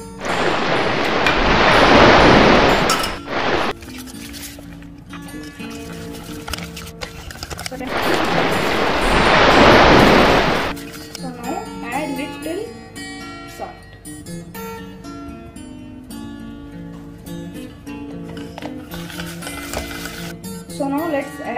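A kitchen blender whirs through sweet pancake batter with added milk and vegetable oil in two loud, steady bursts of a few seconds each, separated by quieter background sound.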